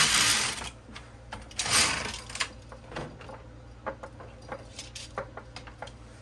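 A knitting machine carriage working a striped poncho gives a few loud sliding sweeps, followed by lighter clicks and clacks of the needles and parts as the yarn is handled nearby.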